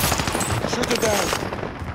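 Rapid automatic gunfire in Call of Duty: Modern Warfare, a dense burst of close, loud shots filling about two seconds, with a voice talking faintly underneath.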